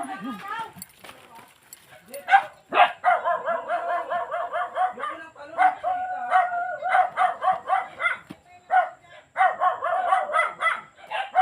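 Dog barking in repeated bursts outdoors with a goat nearby, loud and close, mixed with people talking and other animal calls.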